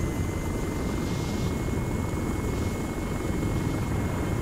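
A helicopter in Arma 3 coming in for a hot landing at a dusty landing zone, its rotor and engine roar steady, loud and close throughout with no pauses.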